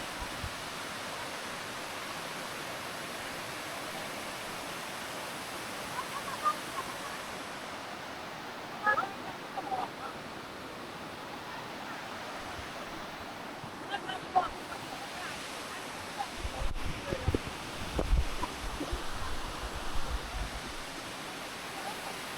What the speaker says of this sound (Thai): กับความสวยงามของอัน น้ำตกนะครับพี่น้อง